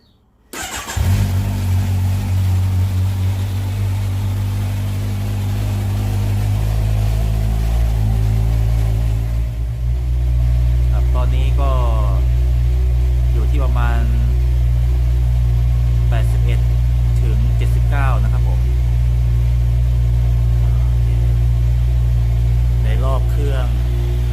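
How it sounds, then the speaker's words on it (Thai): A Kawasaki Z1000 motorcycle idles on its stock exhaust with a steady, loud low rumble, then settles into a deeper drone, with several brief throttle blips rising over it. "เราก็จะมาวัดเสียงท่อเดิมกันก่อนเลยนะครับ"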